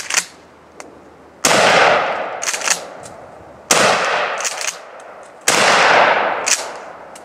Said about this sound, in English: we're going to fire from the hip at that silhouette and see what we get